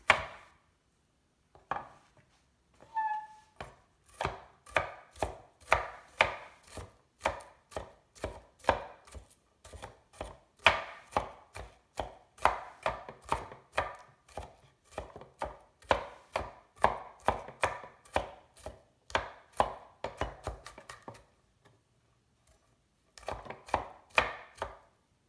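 A knife chops a sweet onion on a board in quick, crisp strokes that run in bursts of rhythmic taps, with short pauses between the runs.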